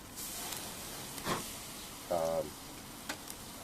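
Steak fat sizzling over a fire on a Weber Go Anywhere grill, a steady hissing crackle with brief louder flare-ups, heard close with no talk over it.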